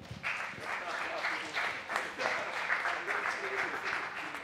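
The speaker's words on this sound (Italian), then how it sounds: "un applauso." Studio audience applause at an Italian comedy show reviewing the 2021 sports year, a steady broadband patter of many hands sustained for several seconds with some faint voices mixed in.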